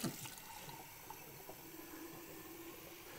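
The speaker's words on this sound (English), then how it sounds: "we're going to take a little bit of tap water." Sacramento tap water runs into a glass in a steady, soft pour that continues throughout, fairly quiet against light room tone.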